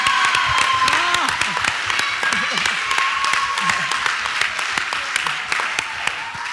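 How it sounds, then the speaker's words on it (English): A crowd at a Board of Education meeting claps steadily for several seconds, a dense patter of applause that holds fairly even and fades slightly toward the end. "can we get a round of applause"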